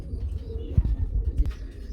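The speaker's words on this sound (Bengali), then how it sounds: "দেখতে পাচ্ছেন কত বড় সাইজের একজন প্রমিনিয়াম পুটার কবুতর রয়েছে" Fancy pouter pigeons coo in low, throaty pulses close by, a few deeper swells standing out over a soft murmur of cooing from the flock.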